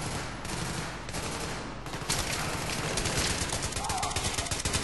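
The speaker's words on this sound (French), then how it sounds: "je tire sur tout ce qui bouge" Dense, loud gunfire in Battlefield 3 on Xbox 360, rapid automatic bursts and overlapping shots running continuously with a busy combat din underneath.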